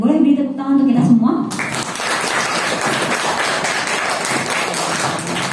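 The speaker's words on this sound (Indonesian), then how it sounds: "boleh beri tepuk tangan untuk kita semua" Classroom applause from students after a biology lesson on betta fish breeding, a steady broadband clatter of many hands that takes over from a teacher's voice and runs on evenly to the end.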